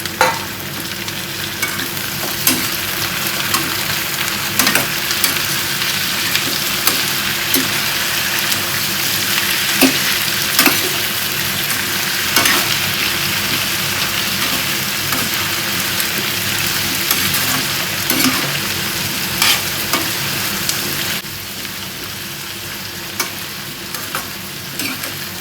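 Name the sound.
diced potatoes and onions sautéing in a pan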